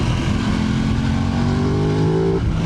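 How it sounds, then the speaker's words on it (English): An Aprilia RS 660 motorcycle out on the road, its engine droning loud and close with wind rush, the pitch climbing steadily as it accelerates before a quick drop at a gear change, no voices over it. "The engine sounds great."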